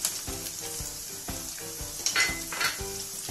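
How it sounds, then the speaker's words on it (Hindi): Chopped ginger and green chili fry in a pan for suji upma, crackling and sizzling steadily while a utensil taps and scrapes against the metal in an uneven rhythm. "अब जाएगा हमारा कटा हुआ जिंजर हरी मिर्ची"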